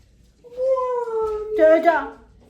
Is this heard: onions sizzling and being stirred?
no